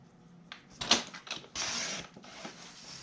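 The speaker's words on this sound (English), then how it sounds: "Then we're going to use our trimmer. And so what we're going to do is we're going to take the 3 inches and we're going to cut out 1-inch strips." Paper trimmer slicing 1-inch strips from a 12x12 craft paper sheet, giving a few short, close blade scrapes and clicks over about three seconds, with a longer swishing cut near the middle.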